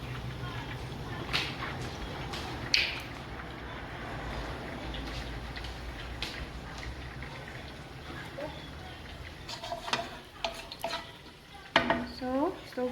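Cumin seeds fry and get stirred in a pan on the stove, a soft crackling sizzle broken by scattered clicks and scrapes of a utensil against the pan, with brief voices in the background.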